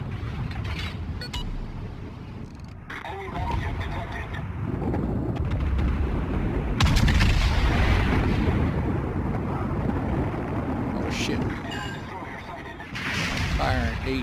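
Rumbling naval artillery fire in World of Warships during Operation Hermes, a continuous barrage of booms and blasts at moderate level, heard under players talking.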